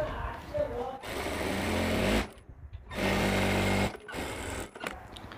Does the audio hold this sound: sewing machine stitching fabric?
yes